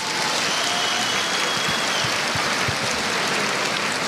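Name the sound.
audience applause at memorial service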